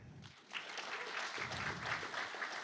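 An audience at the StaffPlus New York 2024 software engineering conference briefly applauds itself, with faint, distant clapping from a crowd lasting a couple of seconds.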